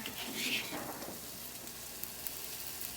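Scallions and ginger frying in a pan for pork fried rice, an even, close sizzle with a brief brighter burst of hissing at the start, then a steady crackle.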